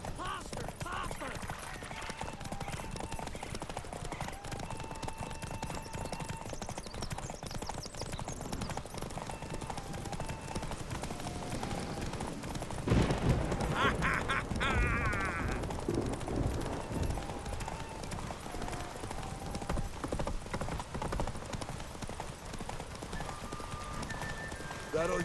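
Horses galloping in a race in The Witcher 3: Wild Hunt, a steady rhythmic clip-clop of hooves throughout with a brief neigh midway, under game voices and music.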